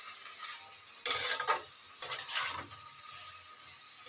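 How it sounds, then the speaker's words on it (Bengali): Cabbage cooks in a pan on a gas stove with soft sizzling, while a utensil stirs and scrapes in a few short bursts over a quiet background hum, close up and with no talking. "রান্না বসিয়েছি। দেখো বাঁধাকপি হচ্ছে"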